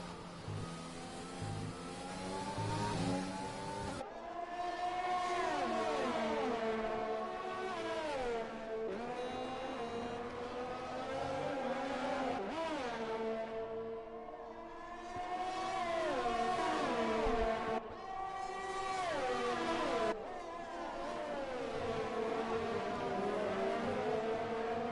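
Formula 1 race cars at the Canadian Grand Prix in a video game, several engines screaming and shifting gears with pitch sweeping up and down as cars pass close, loud and continuous throughout.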